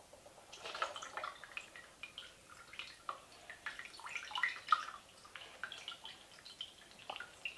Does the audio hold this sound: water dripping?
yes